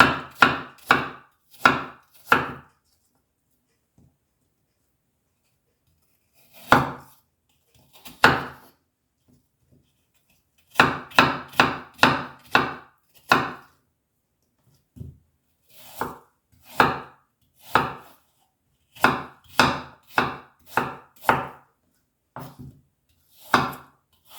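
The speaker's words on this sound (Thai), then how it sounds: "ปอกเสร็จก็หั่นจ้ะ" A knife slices peeled apples steadily against a cutting board in quick bursts of sharp cuts, separated by quiet pauses, with no talking.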